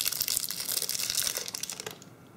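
Tape and foil on an 18650 battery cell crinkling and crumpling in dense, close rustling bursts that thin out and fade near the end.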